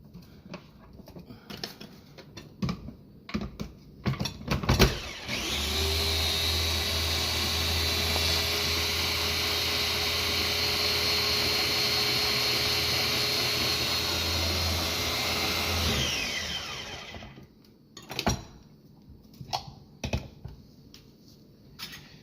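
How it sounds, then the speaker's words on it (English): A food processor whirs steadily for about ten seconds, a loud close motor drone with a low hum, framed before and after by clicks and clatter of handling the machine; no talking. "And one will go around on the food processor."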